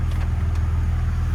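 A Saab 2.8T XWD turbo engine settling to idle after an exhaust valve repair, a steady low pulsing rumble heard close and alone.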